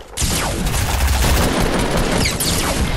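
Gunfire in Fortnite rattles out as a dense, loud, rapid barrage of shots, starting abruptly and continuing almost without pause for a few seconds.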